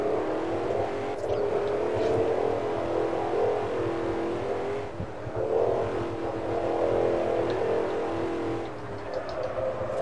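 A truck engine drones steadily as it drives in the Forza Horizon racing game, at moderate volume with a continuous whir that swells and dips twice along the way.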